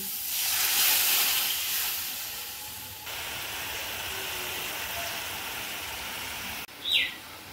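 Water is poured into a hot pan of cooking spices while making a raw-banana curry, setting off a loud rushing hiss that swells, then settles into a steady steamy simmer, with a brief high chirp near the end.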